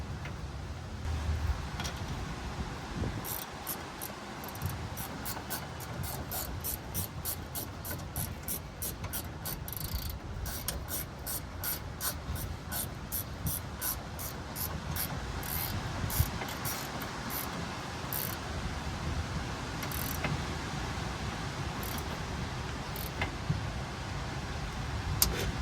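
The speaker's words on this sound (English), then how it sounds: "We will torque down this bolt though before we put in these because we'll need the clearance." A ratchet clicks in quick, steady runs as a bolt is torqued down on a Corvette steering component, the close metallic ticking repeating in bursts over faint shop background.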